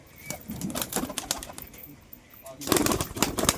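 Roller pigeons coo in a loft, soft repeated calls with bursts of wing flutter and rustling close by, while people talk over them.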